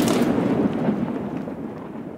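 The decaying tail of a grenade explosion in a first-person shooter, a loud, broad rumbling blast that fades gradually over two seconds with no talk.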